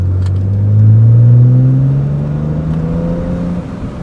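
A BMW 135i with the N54 engine and downpipes revs up, rising in pitch to a loud peak and then easing into a steady, smooth drone, heard close and alone.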